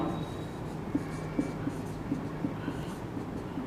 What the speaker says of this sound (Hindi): तो मैं यहाँ पर लिख रहा हूँ